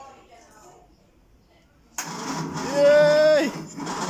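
A car engine with no fuel tank or radiator connected is cranked with the key, a sudden loud starter whirr kicking in after a quiet lead-in, with a brief tonal whine rising over it.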